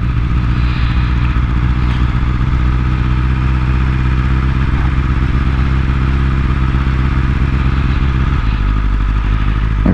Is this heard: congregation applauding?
no